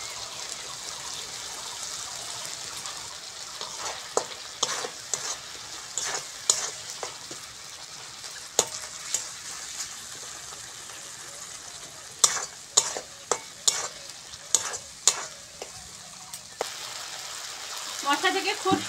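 Spice paste (masala) for an aloo dum fries and sizzles steadily in a pan, with repeated scraping stirs of a spoon against the metal coming in clusters, close and fairly loud throughout.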